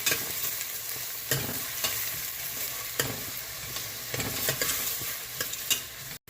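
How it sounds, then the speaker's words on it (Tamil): Chopped onions sautéed in a pan until golden, a bachelor-style mutton gravy in progress, with steady sizzling and repeated scraping spatula strokes at close range, no talking. "இப்போ இது நல்லா பொன்னிறமாக வர்றது வரைக்கும் நாம் இதை நல்லா வதக்கிடலாம்."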